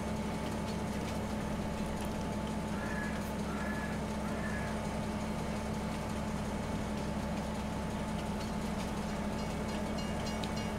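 Train rolling along in the video game Farming Simulator 22, a steady mechanical drone with a constant hum and brief faint beeps near the start.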